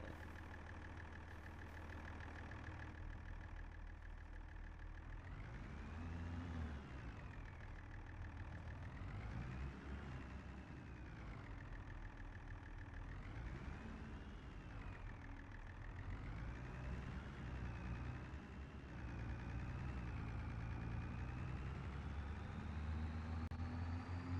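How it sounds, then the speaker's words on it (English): A medium-sized tractor engine idles in the Farming Simulator 25 video game. It gives a steady, low, faint rumble with a gently wavering pitch that continues throughout. "this is a medium-sized tractor"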